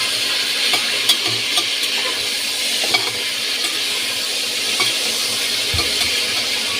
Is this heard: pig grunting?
no